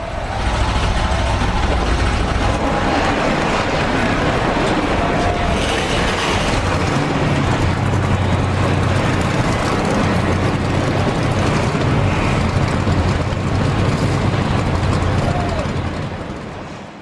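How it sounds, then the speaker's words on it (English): Stock car engines in the NASCAR Racing 2003 game firing up together for a short-track race in Minnesota, a dense, loud, sustained rumble of many idling V8s that holds steady and fades slightly at the end. "Drivers, start your engines!"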